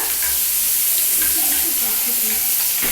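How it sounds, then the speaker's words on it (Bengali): Onion goes into a pan with a frying masoor dal dish, giving a steady, close, dense sizzle that continues unbroken with faint stirring. "এর মধ্যে আমি দিচ্ছি একটু পেঁয়াজটা"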